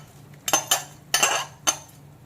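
Fried potatoes go into a pot of mourala fish curry with bottle gourd stems, with a few bright metal clinks and scrapes of spoon against pot, close and fairly loud, with no talking.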